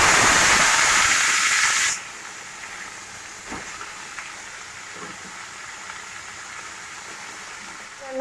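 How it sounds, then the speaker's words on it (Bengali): Brinjal frying in hot oil in a wok gives a loud, steady sizzling hiss for about two seconds. It then drops to a quieter, continuous simmering hiss with faint scattered pops, and no one speaks. "বেগুনটা ভাজা হোক।"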